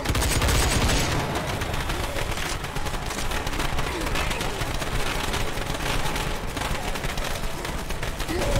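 Gunfire in Left 4 Dead 2 rattles on without a break, loud and close, with rapid automatic bursts throughout and no speech.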